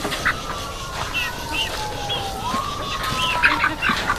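Young farm-raised chickens in a coop give scattered chirps and soft clucks at moderate distance over steady background noise.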